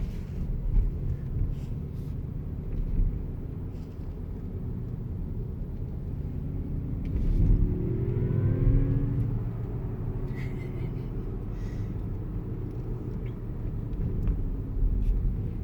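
Mazda MX-30 driving, heard as a low steady interior rumble with rising and falling synthetic tones as the car accelerates, continuous throughout.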